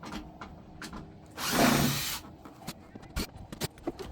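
A power driver whirs briefly for about a second while backing out screws, surrounded by faint clicks, taps and handling noises in a quiet indoor space.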